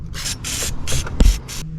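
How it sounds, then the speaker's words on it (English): Wax oil sprayed from an aerosol can onto a BMW Z3 fuel tank strap, in five short hissing bursts with a faint mechanical click between them. "And just a final spray of wax oil."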